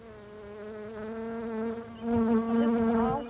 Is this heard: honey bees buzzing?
yes